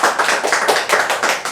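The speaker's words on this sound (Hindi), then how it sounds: "जोरदार तालियां बजाइए आप लोग" Audience applause at a stage show, dense rhythmic clapping from many hands, steady and fairly close, with no talk over it.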